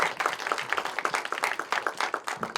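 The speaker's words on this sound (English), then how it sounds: "Keep clapping till we get to the stage." Audience applause for two chefs, Chef Ludo and Natasha Leggero, walking onto a stage at a Q&A event, with dense, steady clapping that holds at an even level throughout.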